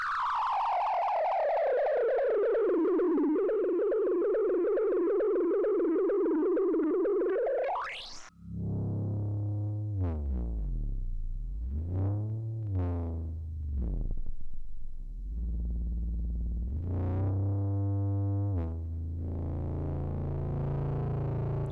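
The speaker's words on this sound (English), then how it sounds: "All these sort of unstable, drony sounds that sort of slip and slide." Unstable, drony synthesizer tones: a buzzing, distorted note wavers and then sweeps sharply upward, giving way to deep warbling tones that slip and slide in pitch.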